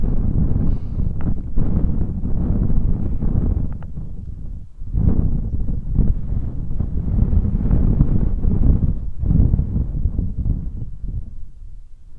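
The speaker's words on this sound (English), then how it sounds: "Fun in the wind here." Wind gusts outdoors where many kites fly, a near, low rumbling buffet on the microphone that swells and eases in waves over about twelve seconds, with no talking.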